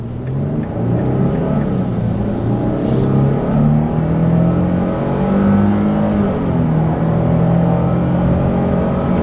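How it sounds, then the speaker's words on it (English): A 2023 Nissan Frontier Pro-4X with a 3.8-liter V6 accelerates hard up an on-ramp, its engine note climbing steadily through the gears in a loud, continuous rising drone with road rumble underneath. "the 0 to 30 is where this engine just excels"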